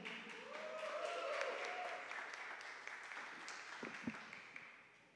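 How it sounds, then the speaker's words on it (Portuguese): An audience at a live performance applauds, a steady wash of many hands clapping that swells and then slowly tapers, with one or two louder claps near the end. "Palmas, por favor."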